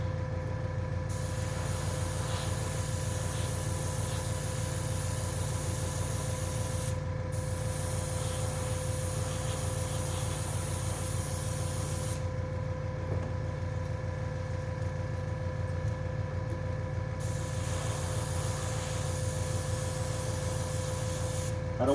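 Spray gun laying down light coats of paint on a custom paint job, a steady, loud, continuous hiss with no pauses and no talking.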